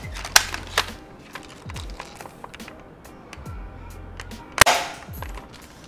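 Toy AR15 M416 gel blaster firing at a foam target, a few sharp snapping shots spaced apart with a louder crack near the end, amid light handling clicks.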